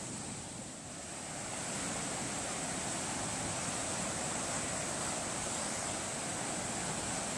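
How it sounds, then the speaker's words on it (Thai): A river swollen after two days of rain in Switzerland rushes steadily, a broad and continuous roar of flowing water with no voices. "แม่น้ำข้างบ้านจ้ะฝนตก2 วัน น้ำเต็มเลย"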